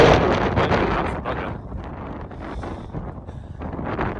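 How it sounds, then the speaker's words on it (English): Heavy wind on the West Highland Way buffets the microphone throughout, a loud, rumbling roar that swells and dips without letting up. "I've got the wind on, but really windy up there"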